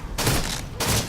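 Two heavy shotgun blasts from a video game, one close after the other, each a loud broadband boom with a lingering tail, no voices over them.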